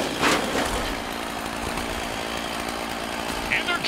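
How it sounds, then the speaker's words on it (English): Chainsaw revving in an American football video game, a steady buzzing drone across the whole stretch with brief louder bursts, heard under crowd and commentary ambience. "the ball carrier's brought a chainsaw onto the field"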